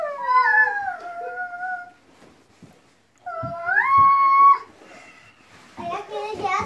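A voice imitates a dog with two whimpering, howl-like yelps, pitched and wavering, in a family living room. Brief murmurs and rustles sit between them, and a quieter yelp or vocal sound follows at the end.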